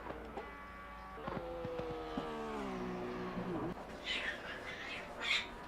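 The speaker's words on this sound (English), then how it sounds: "Oh my gosh, the cats are going crazy." Cats cry and yowl loudly close by, wavering drawn-out meows with shifting pitch, followed by higher squealing calls, all over a steady low hum from a racing game playing in the background.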